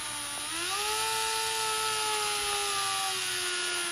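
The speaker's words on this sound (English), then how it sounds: "I have some 400 grit sandpaper, and I'm just gonna go ahead and lightly sand the head of the screw." A drill spins a screw head against 400 grit sandpaper, giving a continuous close whine that rises in pitch as it spins up and holds steady with a gritty hiss.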